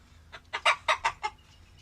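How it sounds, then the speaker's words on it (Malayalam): Chickens in a backyard coop cluck in a quick burst of four or five close, moderately loud clucks, then fall quiet against a low background hum. "ഇതൊക്കെ ഞങ്ങളുടെ കോഴിക്കൂട്"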